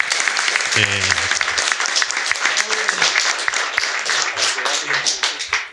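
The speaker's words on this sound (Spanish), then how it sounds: "Quiero también pedirle un aplauso a Fernanda Monticelli" An audience at a talk on urban integration in poor neighbourhoods gives Fernanda Monticelli a sustained, loud round of applause, dense clapping throughout with voices rising briefly beneath it.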